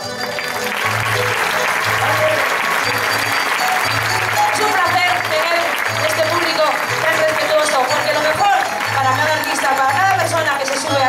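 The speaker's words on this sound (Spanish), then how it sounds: "los que os tenemos que aplaudir a vosotros, porque habéis sido un público espectacular" Sustained audience applause fills a jota folk performance at the 2017 patronal festivities in Puerto de Sagunto, Valencia, a dense wash of clapping with a steady pulsing low hum underneath and no break.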